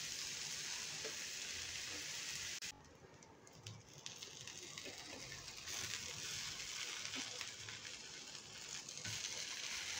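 Buttered garlic egg toast fries on a hot tava griddle with a continuous, soft sizzle that briefly dips partway through, then resumes its steady crackle.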